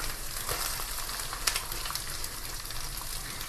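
Onion with ginger and curry leaves frying in a pan for a chana dal and bottle gourd dish, a continuous close hiss of sizzling oil with a faint stirring tap, alone and without speech.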